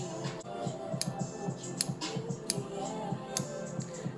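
Scissors snip through layers of wig hair, giving a series of quiet, crisp clicks and cuts at an irregular pace over a low background rustle.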